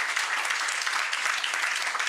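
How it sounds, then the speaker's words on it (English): Audience at a World Asthma Day health gathering clapping, a brief, dense burst of applause heard alone for about two seconds. "Give you one more clap."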